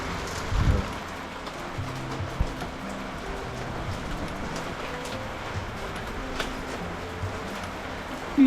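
Heavy unseasonal rain mixed with hail drums steadily on a house, a dense continuous patter with a few louder knocks near the start and end.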